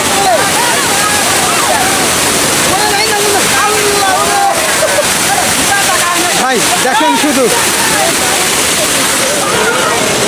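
Heavy waterfall pouring in the hills near the Sylhet-Meghalaya border, a loud, steady rushing roar throughout, with people talking over it.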